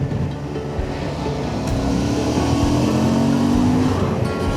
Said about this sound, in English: Here comes some traffic,